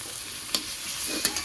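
A dish cooked with green chillies frying in a pan, a low continuous sizzle with two quick spatula scrapes from stirring, close and quiet.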